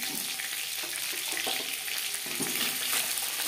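Pieces of shol (snakehead) fish fry in oil in a pan for a Bengali curry with potatoes, giving a steady, close sizzle with occasional stirring clicks and scrapes and no voices.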